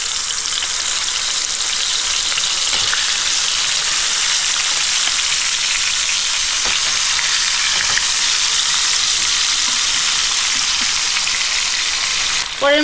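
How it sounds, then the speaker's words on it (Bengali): Pangas fish fries in hot oil in a pan, a loud, close, unbroken sizzle and crackle that carries on alone without speech. "এই মাছটাও আমি দিয়ে দিচ্ছি। এই মাছটাও আমি সেম ভাবেই ভেজে নেব।"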